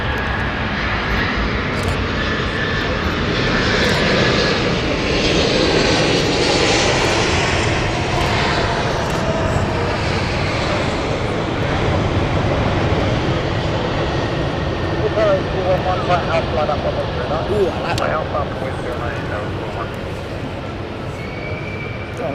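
A jet airliner departs London City Airport in misty weather, a loud, sustained engine roar that rises slightly and then holds steady throughout, with faint talking beneath it.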